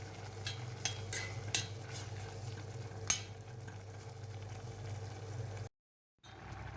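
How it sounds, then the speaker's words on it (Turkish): Tomato sauce with chopped garlic simmers and sizzles in a pot for eggplant and pepper preserves, with a steady bubbling hiss and a few sharp scrapes of a stirring utensil, then a brief silence near the end. "Beş 6 adet doğranmış sarımsağımızı da ilave ederek kaynatmaya devam edelim."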